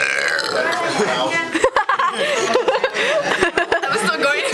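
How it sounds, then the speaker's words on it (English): A loud, drawn-out burp rumbles during a burping contest among friends, with people laughing, snickering and chattering over it close by. "Burp was better."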